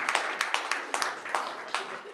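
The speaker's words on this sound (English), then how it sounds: "Give a round of applause for Glassbox." An audience at a tech sprint event applauds with light, scattered claps that patter irregularly at a moderate distance and thin out toward the end.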